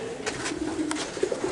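Racing pigeons shut in hampers before a one-loft race, soft low cooing rising and falling close by against a rustling background, with a few brief sharper sounds and no clear talk.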